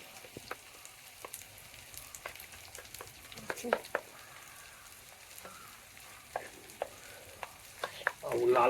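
Four chillies frying in oil in a pan, a soft continuous sizzle broken by scattered light taps of a spoon as they are stirred, with a louder rustle at the end.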